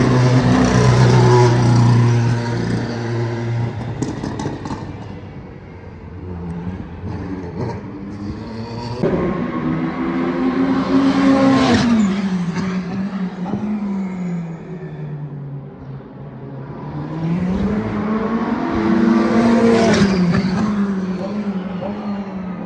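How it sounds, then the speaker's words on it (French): An LMP2 race car at the Spa-Francorchamps circuit, its engine note swelling and fading in long passes as the car approaches and recedes, loud and continuous against the trackside background. "C'est surtout la LMP2 que j'adore le bruit."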